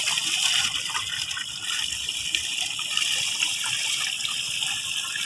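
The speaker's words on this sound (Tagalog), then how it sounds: "dito tayo nag-iigib ng tubig guys" Water gushing steadily from a countryside spring where villagers fetch water: a continuous, close, bright rushing splash with no pauses and no voices.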